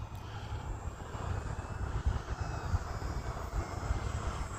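Steady buzzing drone of a small electric E-flite UMX Cessna 182 RC plane in flight outdoors, a continuous moderate hum with light wind noise and no talk.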